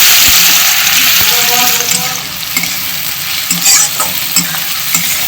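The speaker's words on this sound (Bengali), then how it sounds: "এবার পেঁয়াজটা দিয়ে দেবো তেলে।" Chopped onion dropped into hot oil with whole garam masala and sugar for a homemade chicken kosha, frying with a steady broadband sizzle and occasional stirring clatter, close and fairly loud throughout.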